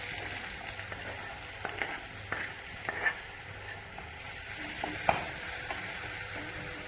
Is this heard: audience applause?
no